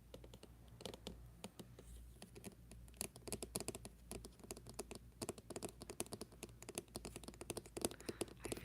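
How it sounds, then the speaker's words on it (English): Rapid, irregular clicking of keys being typed on a keyboard, close and fairly quiet, continuing steadily without any voices. "I feel like I'm typing on a typewriter,"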